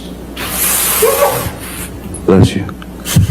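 A single sharp sneeze bursts out in a courtroom, a breathy rush with a short voiced catch, followed by voices speaking nearby.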